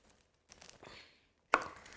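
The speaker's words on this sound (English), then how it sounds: "we need to cut some tomatoes" A knife chopping tomatoes on a cutting board in a home kitchen: a few soft cuts, then one sharp, close chop near the end, with quiet gaps and no talking.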